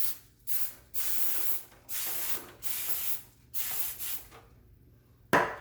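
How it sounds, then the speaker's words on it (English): Pan spray aerosol sprayed into a cake tin for a Jamaican fruit cake, four even hissing bursts in a row followed by a short sharp final spurt, close and clear with no speech. "And I'm still gonna put a little bit of pan spray in it as well too,"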